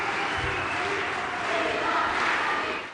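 Audience at an international conference for International Women's Day applauds, a dense steady wash of clapping and crowd noise filling the room.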